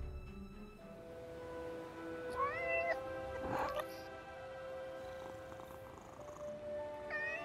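A cat in the game Forspoken meows several times, clear and close, with purring and a steady tonal ambient drone underneath.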